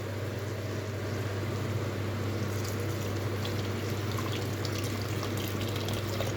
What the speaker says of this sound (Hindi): अभी इसमें ऐड करूँगी पानी।